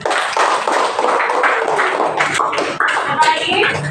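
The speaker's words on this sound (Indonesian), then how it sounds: "Ya, tepuk tangan." A school class clapping hands together in a classroom, uneven clustered claps running throughout with voices and shuffling mixed in.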